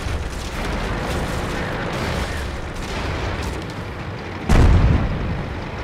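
Artillery shells in the World of Tanks video game hit with a rumbling boom, one heavy blast landing close and loud near the end over constant low battle rumble.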